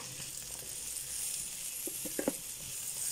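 Peppers frying in a pan for a leftovers chilli, giving a steady close sizzle with a few louder crackles and pops toward the end.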